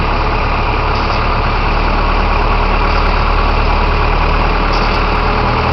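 A carbureted Dodge 2.2 engine idles steadily at close range after an idle speed adjustment, a constant low rumbling drone that holds an even pace without revving.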